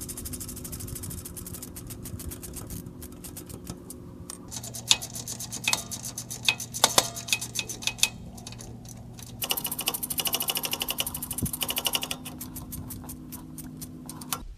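A ratchet clicks in quick, steady runs while tightening differential cover nuts on a 2000 Toyota 4Runner, with pauses between bursts over a low background hum.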